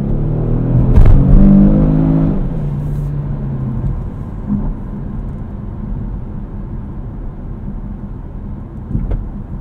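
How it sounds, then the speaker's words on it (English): A 2018 Kia Stinger GT rear-wheel-drive with a turbocharged V6 during night driving, engine rising to a loud throaty swell early on, then settling into a steady low cabin drone and road rumble. "the turbo V6 sounds really good as well"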